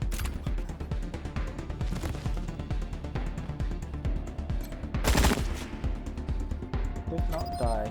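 Rapid automatic gunfire and bursts of shots crackle from combat in the video game Wasteland 3, dense and continuous with a louder blast midway, while someone talks over the action.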